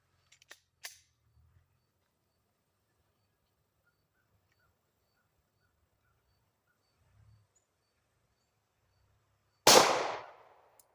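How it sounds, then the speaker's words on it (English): A Glock 23 pistol fires at steel targets: one loud, sharp shot rings out near the end after a long quiet stretch, with a couple of faint clicks early on. "we're gonna see how many dings we can get"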